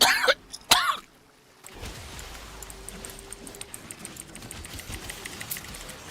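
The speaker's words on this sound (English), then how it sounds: "apologies for the cough" Two sharp, loud coughs come in quick succession right at the start, then give way to a steady low hum of background noise.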